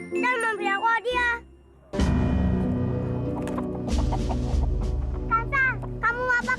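A chicken in an Indonesian period drama series gives bursts of clucking near the start and again at the end, over a low droning background.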